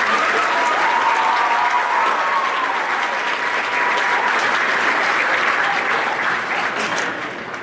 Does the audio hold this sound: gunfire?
no